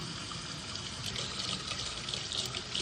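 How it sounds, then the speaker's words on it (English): Water running steadily from a tap into a sink, a continuous soft hiss and splash at close range, alone without talk. "I'm gonna let some more water run"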